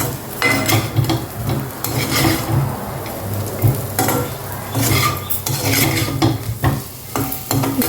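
Baby potatoes fry in a pan with a steady, loud sizzle, broken by repeated scrapes and knocks of a spatula stirring them against the metal, close up and with no voices.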